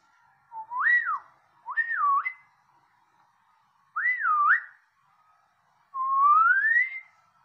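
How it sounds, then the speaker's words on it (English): A person learning to whistle produces four separate whistled phrases with rising and falling pitch sweeps, each about a second long, close and clear, with silent pauses between them. "I'm learning to whistle."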